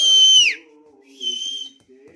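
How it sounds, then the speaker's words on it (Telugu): A person whistles two tones, one long falling note and then a shorter steady one, with a low background voice murmuring beneath. "నీకు వచ్చా విజిల్ వేయడం వచ్చా?"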